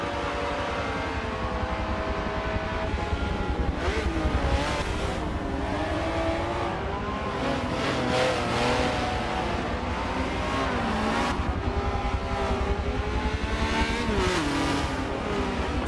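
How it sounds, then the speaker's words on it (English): Race car engines at Circuit de Catalunya in Forza 7, including a Ferrari 575, steady high-pitched whine with rising and falling revs over a continuous roar, running throughout with no pause. "Oh, what a pass by Taki as she now takes top 5."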